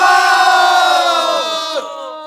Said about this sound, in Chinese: 看到大家如此热烈的欢呼和精彩的鼓掌